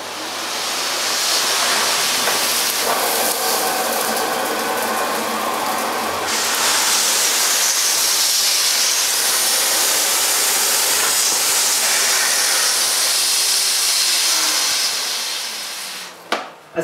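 A Miele S5 Revolution 5000 cylinder vacuum cleaner runs on its lower upholstery setting, giving a loud, steady rushing whoosh with a low motor hum and a brief change in tone midway before it cuts off at the end.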